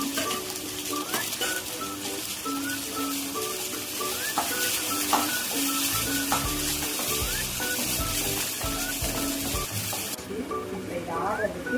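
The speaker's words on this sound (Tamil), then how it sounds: "வெங்காயம் நல்லா வதங்கினதுக்கப்புறம் தக்காளி ஆட் பண்ணிக்கலாம்." Onions and tomatoes sautéing in a pan, a continuous sizzle with intermittent scraping and utensil clinks; a voice talks over it for most of the stretch.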